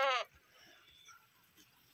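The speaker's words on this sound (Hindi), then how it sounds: "वो भेड़ जा रही है अंदर" A single sheep bleats loud and close for a fraction of a second, then gives way to faint household background sounds.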